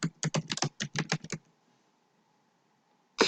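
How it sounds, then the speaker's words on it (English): Quick bursts of computer keyboard typing, about a dozen crisp close keystrokes in a rapid uneven run, then near silence before another key clack at the end. "you can go down and simply just type here into Snipping"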